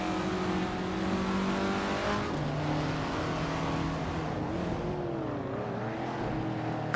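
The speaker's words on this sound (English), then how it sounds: "It's a classic muscle car known for its power and speed, so it's likely making some noise on the track." A Ford Falcon GT HO muscle car roars around a racing game track, its engine note steady and loud, rising and sliding in pitch with gear changes and throttle, heard close and alone without talk.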